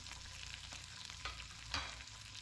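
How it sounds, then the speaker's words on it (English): Strips of bacon fry and render their fat in a pan, a steady close crackling sizzle with a few sharper pops and stirring scrapes, no voices. "While the bacon's rendering down, we'll take this out, use this for the oil and the grease"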